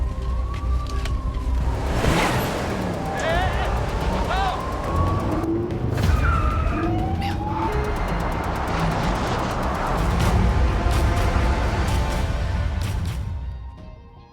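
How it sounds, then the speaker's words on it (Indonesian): A police car siren wails in rising and falling tones over traffic noise and a busy action-film scene, with people talking throughout. "sirine mobil polisi mulai terdengar"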